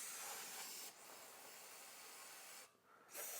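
3M brake parts cleaner sprays into a transmission pan as a steady, close aerosol hiss that pauses briefly and then resumes.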